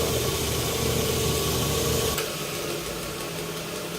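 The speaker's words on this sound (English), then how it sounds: "I'm going to go back to the grinder just a little bit" A grinder shapes the handle of a handmade chef knife, giving a steady, loud motor whir with a grinding hiss that drops in pitch and body about halfway through.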